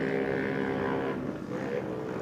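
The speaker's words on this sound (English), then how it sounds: "You can hear that engine spitting and sputtering" An 800 Modified race car's engine drones steadily at close range, faltering and sputtering unevenly as it runs through the corner.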